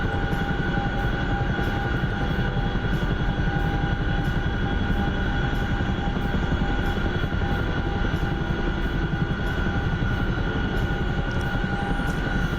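Heavy Chinook helicopter flying in a video game, a steady, loud, droning rotor and engine roar that holds unchanged from start to finish with no talking.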